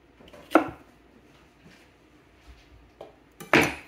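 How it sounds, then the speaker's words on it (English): Knife chopping garden vegetables into half-inch pieces on a board, a few sharp, separate chops with quiet gaps between them, close and clear. "So I've tried to chop them in like half inch pieces."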